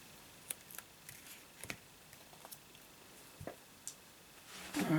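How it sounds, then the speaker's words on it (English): Scissors snip the edge off a paper Christmas candle card, a handful of small crisp cuts scattered over quiet background, close up, with a louder rustle at the end. "Let's just cut that little bit off, it's going a bit close to the edge for my liking."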